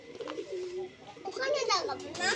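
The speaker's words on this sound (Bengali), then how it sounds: "এটা হচ্ছে পায়রা কবুতর, পায়রা।" A Giribaz breed pigeon recovering from an electric shock injury coos softly at close range, and a person talks over the later part.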